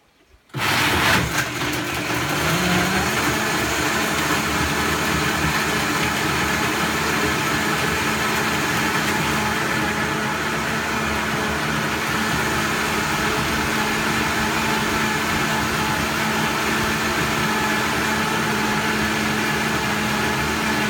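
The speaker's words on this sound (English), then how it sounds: "Blender sounds like it's going into orbit when it turns on." A powerful blender whirs at full speed through almonds, dates and water, starting abruptly and holding a loud, steady roar for about twenty seconds with no talk over it.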